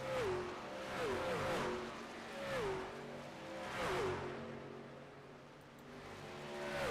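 Race trucks in the Sim500 winter truck series at Homestead roar around the banking, engines rising and falling in pitch through repeated shifts, a steady loud pack of simulated motors with no talk.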